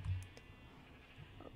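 Minecraft sheep bleating in a survival-mode wool farm, one short faint bleat at the start followed by a couple of softer distant calls.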